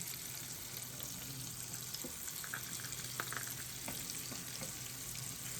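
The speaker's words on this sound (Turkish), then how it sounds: "Önce şu ahtapot bacakları kızartayım aradan çıksın" Octopus legs frying in hot oil give a steady, close sizzle with scattered small pops and crackles throughout, no voices over it.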